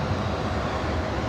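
Delta Airbus A320 jet engines roaring at takeoff power on runway 24 right at Los Angeles International Airport, a dense, steady broadband rumble that sounds loud and fairly near.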